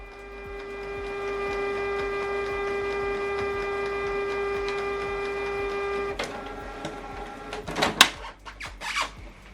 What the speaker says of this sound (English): Switch the printer on.